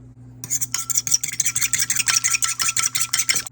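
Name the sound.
whisking an egg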